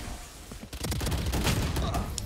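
Rapid bursts of video-game gunfire in a Roblox last-player-standing match, loud and dense, rattling continuously after a brief quieter lead-in.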